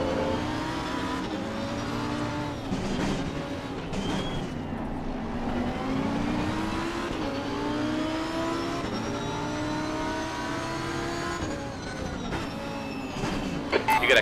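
Race car engines drone steadily in a racing video game at Brands Hatch, several cars' tones rising and falling together at a constant loud level without a break.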